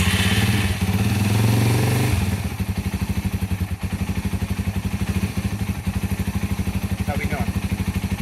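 A Yamaha XT225 motorcycle engine runs with the choke on, opening with a louder rev before settling into a steady, rapid idle putter close to the microphone.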